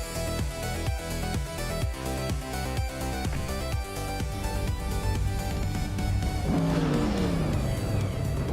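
A 2012 Zenvos T1 race car in a racing video game, engine roaring loudly and steadily on track, with rising revs and gear changes toward the end, no talk.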